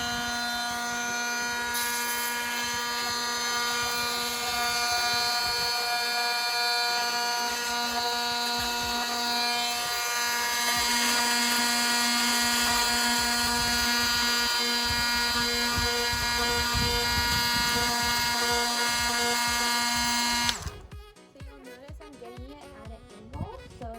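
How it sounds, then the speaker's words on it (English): A power sander works steadily on a resin charcuterie board outdoors, a loud sustained whine with a tonal buzz for about twenty seconds before cutting off abruptly, followed by faint handling noise. "We are outside, so ready to sand this."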